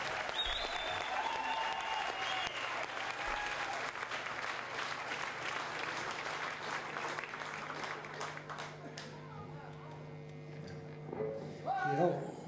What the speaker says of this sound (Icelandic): Gefur hann gott klapp.